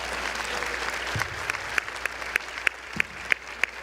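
Congregation clapping at a swearing-in ceremony, starting as scattered applause and settling into a steady rhythmic hand clap with sharp, regular beats.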